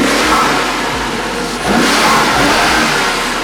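A BMW X5M fitted with a Dinan carbon intake revs at a car show, loud and close, with the engine note rising and falling through repeated throttle blips and no talking.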